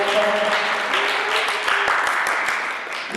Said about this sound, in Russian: Я думаю, они заслужили аплодисменты, эти два человека.